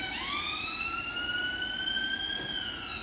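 An ambulance siren wails loudly with rising and falling tones, heard from aboard a J50 steam locomotive on the Weardale and Teesdale line.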